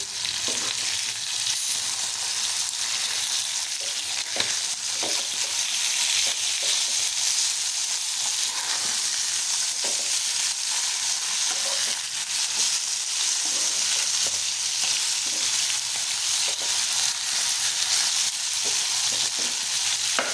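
Fish fries in a pan while being turned over, a dense continuous sizzle and crackle of hot oil held close and loud throughout, with faint occasional scrapes and no talking.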